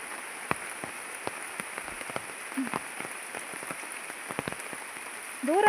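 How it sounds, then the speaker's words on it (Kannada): Light rain patters steadily on nearby surfaces, a soft even hiss of drops with scattered sharper taps, and no voices over it. "ಮಳೆ ಸಹ ಬರ್ತಾ ಉಂಟು."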